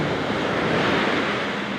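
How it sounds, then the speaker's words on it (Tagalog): Heavy ocean surf roars steadily on a fishing shore, a dense wash of big crashing waves reaching the boats, with wind noise buffeting the microphone. "Kasi ang lalaki po ng alon."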